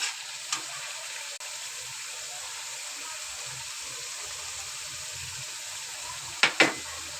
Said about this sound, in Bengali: মশলাটা আস্তে আস্তে করে ভাজা হয়ে যাচ্ছে